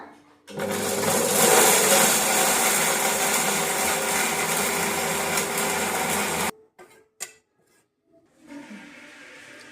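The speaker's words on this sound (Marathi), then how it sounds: "हे मिक्सर ऑन करून घेतलं आता" A mixer grinder whirs loudly and steadily for about six seconds, grinding a paste for a fenugreek-leaf vegetable dish, then stops, followed by a few brief clatters and faint sounds.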